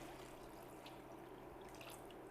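A litre of water pours into a pot of chicken soup, a faint steady splashing and trickling stream lasting a couple of seconds with no talk.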